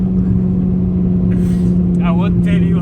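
A Renault Clio RS with a naturally aspirated engine pulls hard on an open Namibian road, a loud steady drone heard from inside the cabin under a man's speech.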